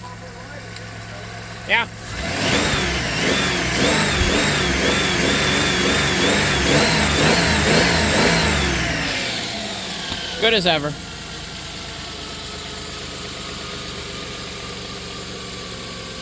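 A 1997 Dodge Caravan LE engine, freshly fitted with new rod and main bearings, idles and then revs up in a steady rising and falling drone for several seconds before settling back, with brief talk before and after.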